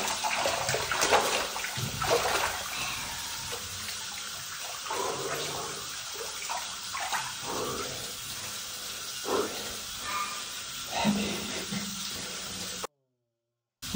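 Mineral water pours steadily into a small natural thermal bath pool, a continuous rushing, splashing wash at moderate loudness lasting most of the time before cutting off abruptly near the end.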